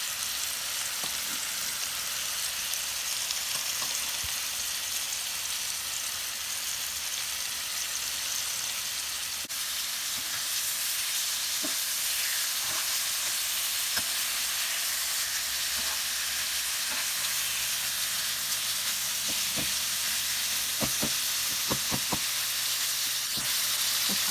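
Steak sizzles steadily in a pan with butter and garlic, a loud, close, continuous crackling fry with scattered sharper pops and no talk.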